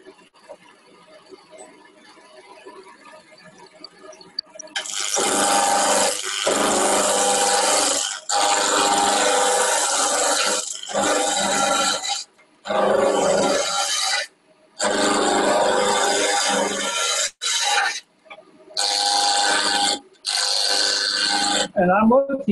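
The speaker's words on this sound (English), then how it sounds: "Back to a roughing gouge." Roughing gouge cutting a glued-up wood blank spinning on a lathe, a loud rasping, scraping roar in repeated bursts with short pauses between passes, following a few seconds of quieter background at the start.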